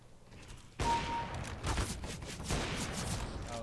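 Gunshots in CS:GO on the Dust 2 map, a sharp report cutting in abruptly, then further shots and echoing rumble at intervals, moderately distant and fairly quiet overall, with no talk.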